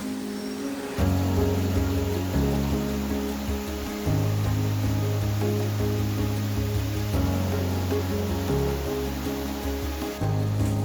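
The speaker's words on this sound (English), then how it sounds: "Zhubo, or Main Fall, is Hong Kong's tallest waterfall, boasting a 35-meter drop from top to bottom." Constant roaring rush of Main Fall, Hong Kong's tallest waterfall with a 35-meter drop, a dense steady wash of water heard up close with no talk over it.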